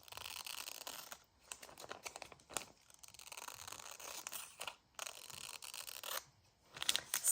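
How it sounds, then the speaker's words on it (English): Scissors snip slivers off the edges of paper sheets, giving a series of quiet, close, crisp cuts and rustles in short irregular bursts separated by brief pauses. "So I'll just cut a sliver off those."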